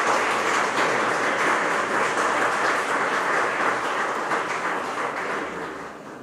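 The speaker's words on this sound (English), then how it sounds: "Please, big applause for Kerry Cassidy." An audience at a ufology congress gives big applause for the speaker Kerry Cassidy, a dense, loud wash of clapping that holds steady and then fades slightly near the end.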